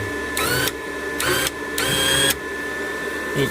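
A Titanium Flux Core 125 amp welder crackles and buzzes in three short bursts of about half a second each over a steady hum, with quieter gaps between them.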